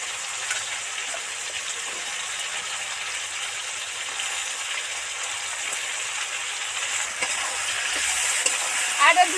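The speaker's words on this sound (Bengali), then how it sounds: "চার মিনিট ভালো করে ধরে ধরে ভাজতে থাকবে" Mixed vegetables with pumpkin, okra, pointed gourd and ridge gourd frying in oil in a pan, an even steady sizzle with light stirring scrapes and a few clinks near the end.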